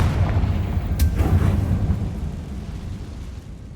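Fiery Confringo spell blast from Hogwarts Legacy, a sharp crack followed by a deep rumbling boom that rolls and slowly fades over several seconds, loud with no talking.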